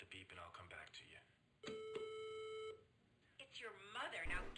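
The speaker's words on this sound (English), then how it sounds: "Leave your message at the beep and I'll come back to you." In the game Plumbers Don't Wear Ties: Definitive Edition, an answering machine gives a single steady electronic beep lasting about a second, between stretches of spoken dialogue before and after.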